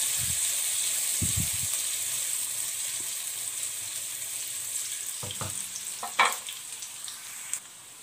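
Cubed carrots sizzle in a hot pan as cooking for a mixed vegetable dish goes on, with a steady frying hiss throughout, a few soft knocks and scrapes of stirring, and one brief clatter near the end.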